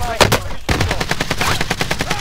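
Rapid automatic gunfire in Call of Duty Warzone, a loud opening burst followed by a steady string of evenly spaced shots across the whole stretch, with a faint voice underneath.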